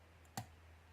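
A single small, sharp click from a Syneco padlock pin setting while the lock is picked, close and quiet over a steady low hum.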